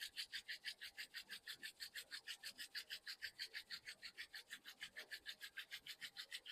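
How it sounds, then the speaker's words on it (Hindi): Palms rubbed briskly together during a yoga session, a steady rapid swishing rasp repeating about five strokes a second, close and even throughout with no talking. "And rub your palms."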